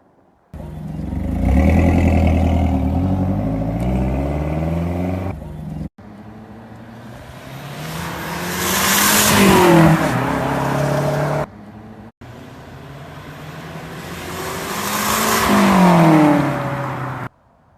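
Mazdaspeed 3 with a resonator delete, the exhaust droning loud and deep through three separate revving runs, each climbing to a peak and easing back down.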